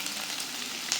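Potatoes and eggs fry in a pan, a loud, close, continuous sizzle with a faint crackle near the end and no talk.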